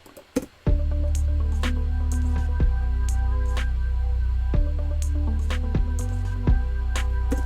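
A nylon-string guitar part from an original song sounds alone, with soft plucked notes ringing over a steady low sustained bed. The plucks fall in a loose rhythm of roughly one or two per second.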